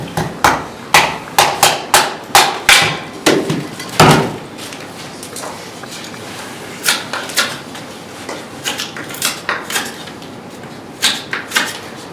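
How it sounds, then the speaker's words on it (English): Ice being split outdoors at a winter camp, a rapid series of sharp chopping knocks in bursts, then a pause and another, quieter run of strikes, loud and close. "Probably can try and split this ice."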